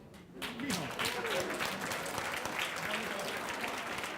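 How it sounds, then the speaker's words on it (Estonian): A conference audience breaks into applause after a short quiet moment, a dense wash of clapping that swells quickly and holds steady, moderately loud and near, with a voice heard faintly at the start. "Palun, aplaus."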